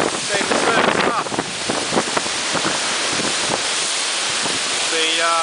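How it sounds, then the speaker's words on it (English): Strong wind in the aftermath of Cyclone Yasi on Magnetic Island, Australia, buffets the microphone above a bay with rough water, a constant roaring rush while a person talks. "you can see the wind still really happening"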